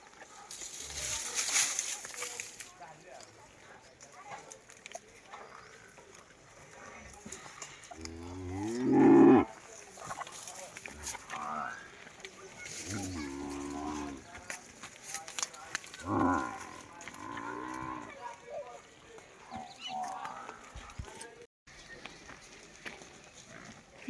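Cows lowing in a shed among loose buffaloes, calves and a few goats, with one loud moo standing out and other calls scattered through, while people talk nearby.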